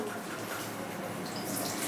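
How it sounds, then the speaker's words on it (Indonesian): Tap water runs during a handwashing rinse, a faint, steady hiss of flowing water with no breaks. "Bilas menggunakan air."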